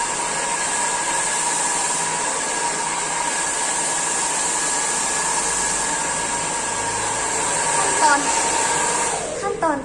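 A hair dryer blows steadily and loudly at close range, drying hair after a keratin treatment in a salon, a continuous whooshing hum with a slight shift near the end.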